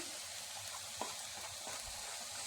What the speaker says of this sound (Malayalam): ഈ മുട്ട ഇതുപോലെ ഇളക്കി ഒന്ന് നമുക്ക് ചിക്കിയെടുക്കാം.